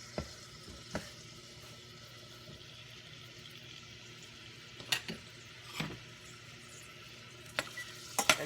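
Curry leaves, garlic and onion hitting hot oil for Trini stewed lentils give a faint, steady sizzle, broken by a few sharp clatters of stirring.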